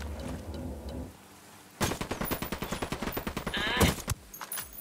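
Rapid bursts of automatic gunfire in the video game Ghost Recon Wildlands, a steady rattling string of shots after a quieter opening, with a muffled voice briefly audible at the start.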